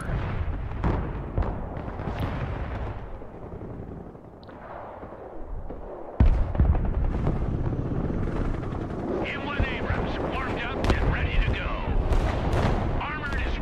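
Artillery fires in the video game Broken Arrow, with several deep booms and sharp blasts over a rumbling battlefield backdrop of engines and gunfire, while game radio voices talk over it in places.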